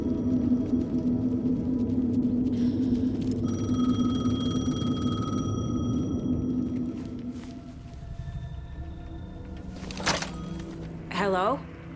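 A payphone rings in a video game, a steady electronic ring with a sustained tone over a low ambient hum, followed by a few clunks and a short rising warble near the end.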